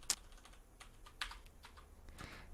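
Someone types on a computer keyboard in a quiet room, a few scattered keystrokes with one sharper clack at the start and another partway through.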